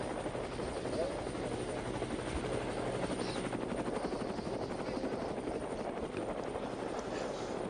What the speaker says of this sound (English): the helicopter's been going around in circles today